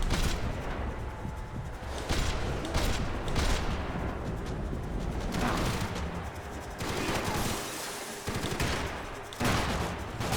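Bursts of gunfire from a newly picked-up weapon in the video game Max Payne 3, rapid dense volleys in several clusters with brief gaps, loud and close.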